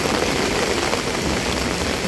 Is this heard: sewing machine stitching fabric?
no